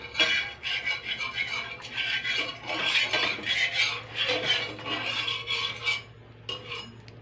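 A metal spatula scrapes and spreads oil around a hot tawa, rapid rhythmic scraping strokes continuing for several seconds, close and fairly loud, with a low steady hum underneath and no talking.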